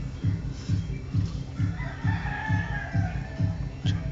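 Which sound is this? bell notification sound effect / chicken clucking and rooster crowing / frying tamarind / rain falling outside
chicken clucking and rooster crowing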